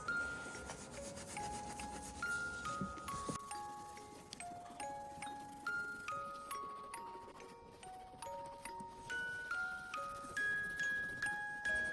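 Photo transfer paper is rubbed off a wooden Christmas ornament by hand in quiet, regular strokes that repeat about twice a second, with soft music in the background.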